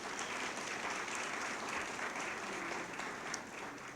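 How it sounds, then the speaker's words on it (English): Audience applause at a Hispanic heritage community breakfast, a faint, even wash of many people clapping heard from a distance, continuous with no voices on top. "Let's give him a great big round of applause."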